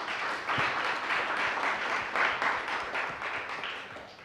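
An audience at a radio and artificial intelligence roundtable applauds the panel, a steady wave of many hands clapping with slight pulsing swells, tapering off near the end.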